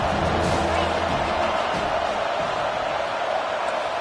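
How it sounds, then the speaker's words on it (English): A football stadium crowd at an Iowa vs USC game roars for the defense on third down, a broad, steady wash of cheering that is loud and continuous and swells slightly at the start. "Decibels rising as the crowd gets behind this defense on third down"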